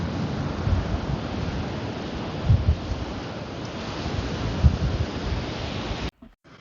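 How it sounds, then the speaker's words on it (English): North Sea waves near Dover wash steadily as a continuous broadband roar, with occasional heavier surges. Wind buffets the microphone throughout. The sound cuts off abruptly near the end. "it's the North Sea."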